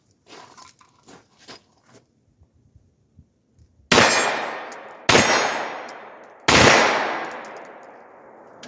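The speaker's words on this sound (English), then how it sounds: "when I practice my bump firing." A pistol is bump fired with a tennis ball brace: three loud, close gunshots about a second apart, each ringing out with a long decay, after a few faint handling clicks.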